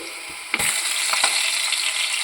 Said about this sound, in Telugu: ఆయిల్లో ఒక్కొక్కటిగా వేసుకొని మంచిగా ఫ్రై చేసి తీసేయాలి